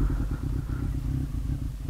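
A warmed-up motorcycle engine idles steadily up close with the choke off, a low throbbing rumble with a faint mechanical clatter running throughout and no talk.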